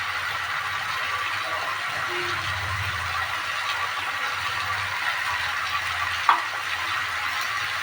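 Spiced masala sizzles and fries steadily in a pan as prawns go in, a constant close hiss with a brief clatter near the end and no talking.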